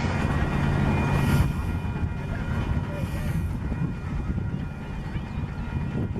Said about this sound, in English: It's a steam engine running,